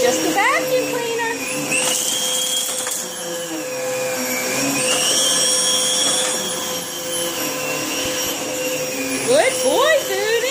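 Steady whirring of a vacuum cleaner running close by, its tone rising and falling, with short squeaky yelps from a dog over it.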